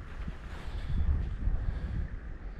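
Strong south wind gusting across a lake, a low rumbling buffet against the microphone that swells and eases over a couple of seconds with no other sounds.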